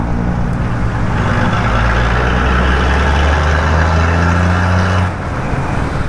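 Trucks drive and idle on a street in a Cambodian town near the border, a steady, loud low engine rumble throughout that drops slightly near the end.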